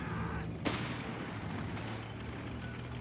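Gunfire from a German bike unit in the strategy game Company of Heroes 3, one sharp crack rising above a constant rumble of battle noise.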